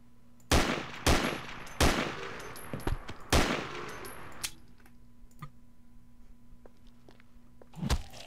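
In a video game, a gun fires several sharp shots spaced a second or so apart, followed by fainter clicks and one last shot, close and otherwise quiet.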